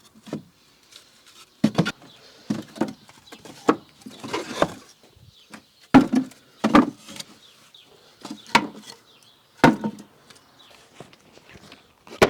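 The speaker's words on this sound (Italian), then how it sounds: "cominciamo subito col sistemare la legna da ardere" Firewood being handled and stacked outdoors, with irregular knocks and thuds of wooden pieces set down one after another, some sharp and some softer, amid quieter rustling.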